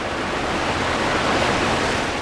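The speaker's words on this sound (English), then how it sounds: "the ever-present thunder of rushing water" Thunderous rushing river water with crashing haystack waves, a dense, steady roar filling the whole clip up close, with no voices.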